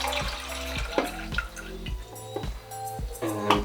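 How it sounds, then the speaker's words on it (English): Film developer pours into a developing tank with gurgling, glugging splashes and small plastic knocks, a close, uneven run of liquid bursts lasting a few seconds. "Alright, same thing with the developer. You can pour it in here"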